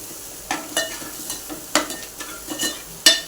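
Chilli and salt are sautéed in a pan for a sprouted mung bean bhaji. A spatula scrapes and knocks against the pan in repeated sharp strokes over a low, steady sizzle, close and with no talking.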